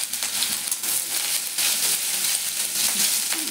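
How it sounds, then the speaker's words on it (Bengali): Garlic fries in hot oil in a pan, giving a close, continuous crackling sizzle with small popping spits over a few seconds and no talk. "রসুনটা একটু ভাজা ভাজা হবে,"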